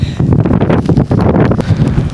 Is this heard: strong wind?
yes